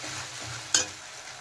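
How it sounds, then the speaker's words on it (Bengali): Spice paste and onions fry in a pan for chicken gugni, a brief steady sizzle with one sharp scrape or clink partway through. "দিয়ে এখন কিন্তু ভালোভাবে কষিয়ে নিতে হবে।"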